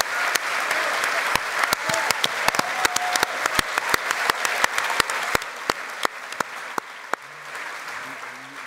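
An audience at a film masterclass with cinematographer Christopher Doyle applauds in a broad, continuous wash of clapping, with sharp individual claps cutting through near the front, tapering toward the end.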